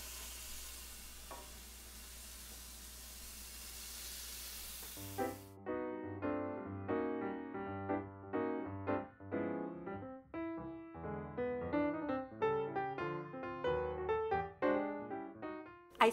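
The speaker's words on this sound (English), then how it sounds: "So now I have my skillet preheating over about medium-high heat, and I'm gonna add in my burger patties." Burger patties sizzle in a skillet preheated over medium-high heat, a steady bright hiss for about five seconds before music takes over and covers it.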